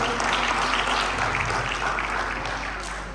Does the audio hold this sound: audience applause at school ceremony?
yes